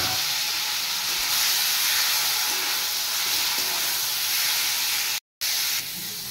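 Mashed, boiled chalta (elephant apple) sizzling in a frying pan: a steady, close hiss of frying that stays loud throughout, with one brief cut near the end.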